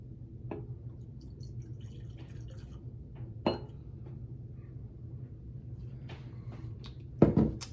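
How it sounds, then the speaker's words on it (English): Buffalo Trace bourbon whiskey is poured into a small glass: a few quiet clinks and drips, then a brief splash and clink of glass near the end, with no talking. "give me a second here while I pour myself a dram of bourbon"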